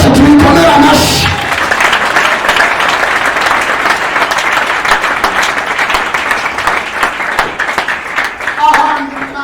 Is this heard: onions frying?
no